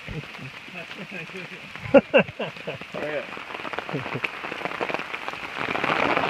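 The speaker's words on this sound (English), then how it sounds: "that's raining pretty good now" Heavy rain falls during a backpacking hike, a dense, steady hiss of drops on surfaces with a few sharper spatters. People talk over it now and then.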